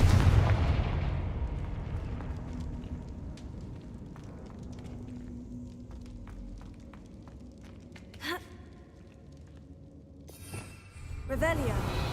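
Confringo spell blasts from Hogwarts Legacy, a few sharp explosive bursts with fiery crackle amid game sounds, brief gasps and voices in between.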